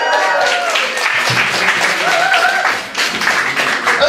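A Bright Club comedy-night audience in Loughborough claps to welcome compere Paul Savage, a loud, dense wall of applause that holds steady, dips briefly near the end, then swells again, with a few voices mixed in.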